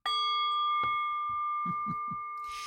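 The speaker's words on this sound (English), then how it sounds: "And through the sound of the bell, which I forgot, a little bit more." A single struck bell rings out at the start of a spiritual reading, its clear tone sustaining and slowly fading across the clip while a few soft knocks and taps sound beneath it.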